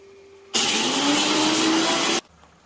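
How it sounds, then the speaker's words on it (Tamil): A mixer grinder grinds roasted masala into powder, whirring loud and close in one steady, harsh burst of about two seconds that starts and stops abruptly. "இந்த மசாலாவை அரைச்சிக்கலாம்."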